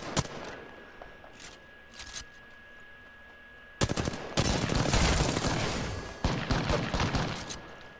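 Rapid automatic gunfire in the Apex Legends video game: scattered short bursts at first, then a long dense stretch of loud sustained shooting with overlapping shots and a faint steady tone beneath.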